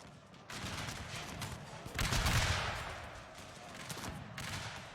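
Musket volleys in the strategy game Shogun 2: Fall of the Samurai, a faint battlefield mix of crackling fusillades and scattered shots rising to a denser burst of massed fire midway, then easing.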